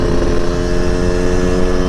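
Yamaha RX King motorcycle on a two-lane road in Banda Aceh, its engine droning loud and steady close by throughout, with no talk.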